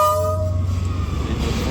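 A train rolls through the narrow Train Street in Hanoi, close and loud, a sustained horn tone at the start fading into a heavy, continuous rumble of wheels and carriages.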